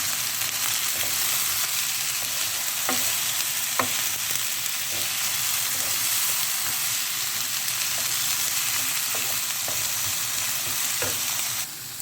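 Onion frying in a pan where sea bass was just browned gives a loud, steady sizzle and hiss that runs without pause, with a few faint clinks and stirring sounds close by.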